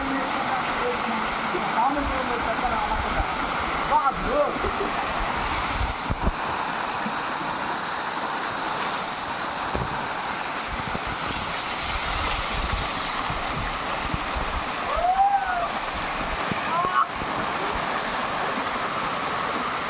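A hidden forest waterfall in Alluri Sitharama Raju district, Andhra Pradesh, pours in a constant, fairly loud rushing roar, with occasional faint voices and brief higher sounds over it.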